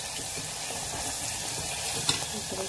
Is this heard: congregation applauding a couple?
no